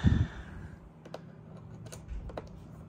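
A PowerBook 3400c laptop is shut and turned over one-handed, giving a soft thump at the start followed by a scatter of light plastic clicks and taps close by.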